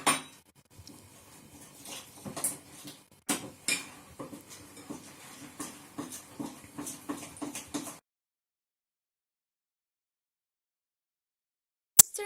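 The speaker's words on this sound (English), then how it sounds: "Then, we put the salt and stir it." Egg and salt whisked in a bowl for a trganci dough, giving a run of quick utensil clinks and scrapes against the bowl, fairly close, before the sound cuts to silence with one brief knock near the end.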